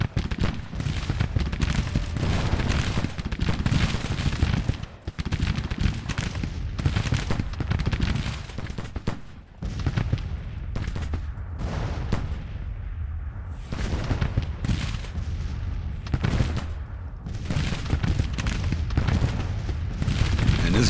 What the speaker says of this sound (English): this guy should be firing counter battery into this artillery here